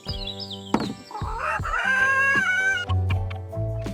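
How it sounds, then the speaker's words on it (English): Animated farm chickens cluck in quick bursts while a rooster crows loudly over them, a short busy barnyard chorus up close. "Time to raise some chickens."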